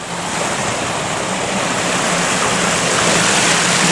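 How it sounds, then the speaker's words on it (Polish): An artificial mountain stream spills down cascades in a river biotope exhibit at Wrocław Zoo, a steady, close rush of splashing water that holds an even level throughout with no voices. "to jest taka imitacja jakiego potoku górskiego"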